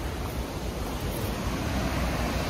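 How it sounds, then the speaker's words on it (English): Constant broadband rushing of a waterfall near Rydal in the Lake District, steady and fairly loud with no pauses or voices. "But that is your waterfall there"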